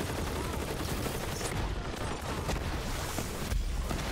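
Enemy gunfire in the Borderlands 3 video game, a dense, continuous clatter of shots with short bursts and pops layered over a steady noisy game backdrop, loud and close throughout.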